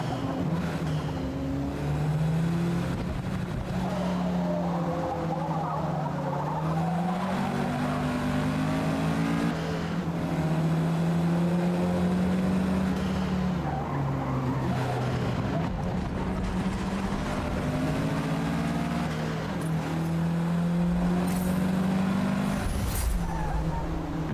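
Race car lapping in Forza Motorsport, engine droning steadily with rising and falling pitch through gear changes, continuous and close throughout.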